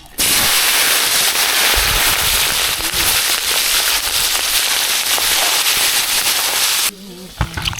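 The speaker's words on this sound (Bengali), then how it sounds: "ছোট বড় সব ট্যাংরা একসাথে দিয়ে দিলাম" Small and large tangra fish, added all at once to hot oil at an outdoor picnic cook, set off a loud, dense, crackling sizzle that runs steadily for several seconds and then cuts off abruptly.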